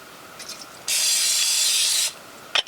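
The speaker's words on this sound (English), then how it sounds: "This is another little bit of cooking spray." Cooking spray hisses into a frying pan at a campground in a single loud burst lasting just over a second, followed by a faint clink.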